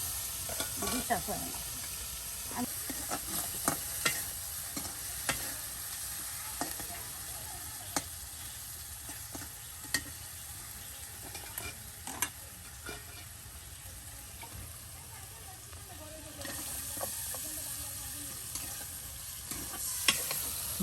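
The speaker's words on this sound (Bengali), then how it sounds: "মাংসের সাথে সেই আলু কুচিগুলো মশলার সাথে একসাথে কিন্তু মিক্সড করে নেওয়া হচ্ছে" Potato pieces being stirred and fried together with spiced chicken in a pan, a soft continuous sizzle under scattered scraping clicks of a spoon, fairly faint and steady over a long stretch without talk.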